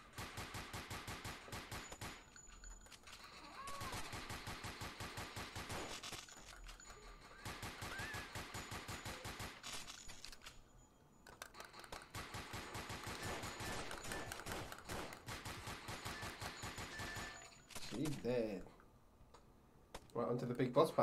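Rapid bursts of gunfire ring out in the VR shooter Crime Cracker VR during a boss fight, with repeated sharp volleys separated by short pauses, and a voice talks over the shooting.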